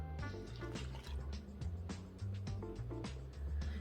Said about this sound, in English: and 1 cup of lukewarm water